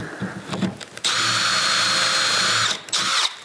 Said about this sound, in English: I'm just drilling down far enough to locate that hole.